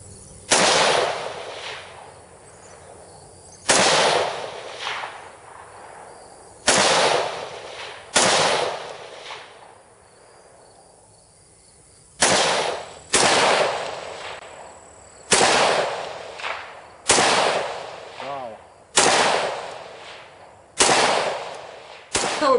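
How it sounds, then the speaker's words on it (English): An AR rifle fitted with a Seekins Precision ATC muzzle brake fires about a dozen loud, sharp outdoor shots, singly and in quick pairs, each with a decaying echo, with pauses between strings. "the gun doesn't move when you shoot"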